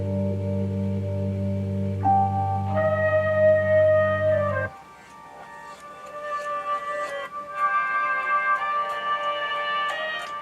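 Sampled music in which a sustained flute tone enters on the same pitch as the preceding loop and swells in gradually, carrying on over a sparser mid-range backing after the low bass drops away.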